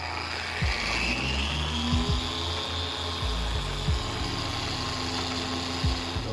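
A power polisher with a heavy cutting disc and heavy cutting compound whirs steadily up close on a BMW Z3 M Coupe's damaged paint, its motor pitch dipping and rising repeatedly as it's pressed and worked across the surface.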